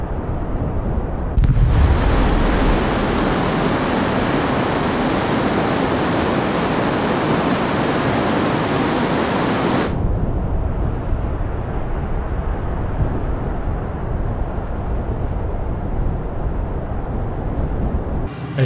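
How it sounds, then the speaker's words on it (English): Both afterburners of a Bristol T188 jet in a flight game kick in with a sudden loud roar that holds as a dense, steady rush. It then cuts to a duller, quieter engine rumble. "telling us both afterburners have engaged"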